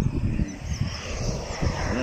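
A geared motorbike's engine runs with a continuous droning rumble, loud and close, with a voice talking over it.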